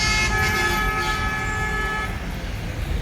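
Car horns honk in busy Vietnamese street traffic, a sustained loud toot with others layered over engine rumble, fading slightly toward the end.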